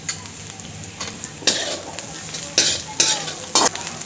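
Chopped onion with grated coconut and cashews sizzling in a hot pan for a dhaba-style green peas curry, with a steady fry hiss broken by several loud bursts of stirring and scraping, close up.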